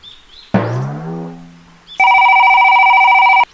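A phone rings while a call is being placed. A steady electronic ringing tone sounds alone for about a second and a half, loud and clear, after a short voiced sound at the start.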